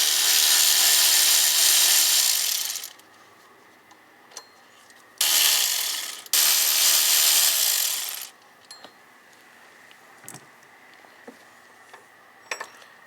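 Ratchet with a 10 mm socket working bracket bolts on a 4.4L V8 Land Rover LR3 engine, bursts of fast clicking ratcheting separated by pauses with scattered small metallic taps and clinks.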